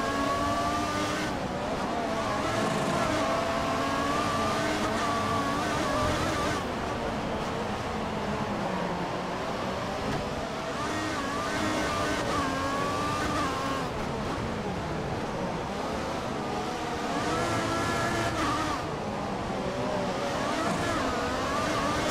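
Formula 1 race cars in the F1 2014 video game accelerate around the Monaco circuit. The high-pitched engines whine continuously and shift pitch as they rev up and down, and a voice speaks faintly underneath.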